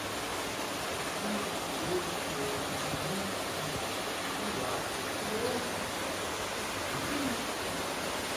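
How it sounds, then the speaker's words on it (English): A waterfall inside a cave produces a constant broadband rushing hiss, steady and enveloping throughout, with a few faint voices murmuring beneath it. "Oh yeah, there's a waterfall."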